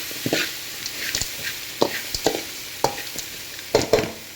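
A spoon stirs a sizzling bitter gourd stir-fry in a pan after coriander powder goes in, with irregular close scrapes and clacks over a steady frying hiss and no talking.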